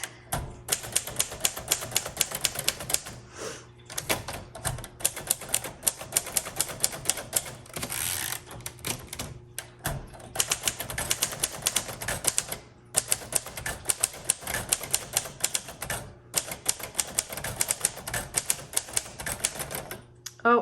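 Rapid clacking of keys on a 1941 Royal Quiet Deluxe manual typewriter in fast bursts with short pauses, loud and close, continuing for a long stretch.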